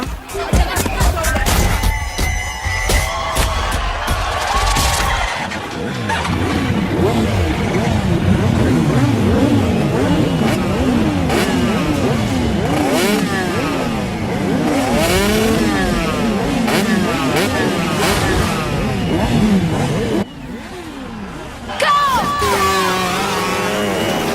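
A motorcycle engine revs repeatedly, rising and falling in pitch, amid loud crowd chatter and shouting nearby.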